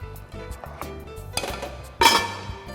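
A spoon clinks and scrapes against a pot while garlic dal with turmeric is stirred, giving a string of light metallic taps and rattles that ends in a louder, ringing clank.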